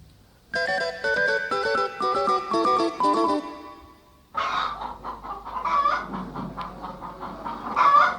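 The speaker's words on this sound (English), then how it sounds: "It was a hen squawking indignantly." A burst of melodic electronic ringtone-like tones, then agitated clucking and squawking from a hen, fairly loud and close.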